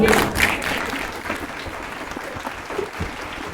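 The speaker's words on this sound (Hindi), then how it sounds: "सर रहीम के लिए एक बार जबरदस्त तालियां।" Audience applause at a stage event, a crackling spread of clapping that starts strong and thins into scattered, uneven claps, with some faint low voice-like murmur beneath.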